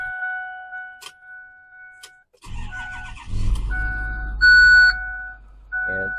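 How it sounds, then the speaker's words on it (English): A brush fire truck is started with the key: ignition chimes sound first, then the starter cranks and the engine catches into a steady idle, close and loud, with a further chime near the end. "And so it starts up just like a regular truck."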